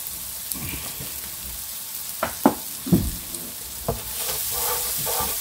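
Sliced onion frying in oil in a pan, a soft background sizzle broken by several scraping stirs and knocks, growing slightly louder toward the end.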